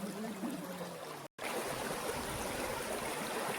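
A stream babbles near Penchalakona waterfall, giving a steady, close rush of flowing water that cuts out for a split second before it resumes.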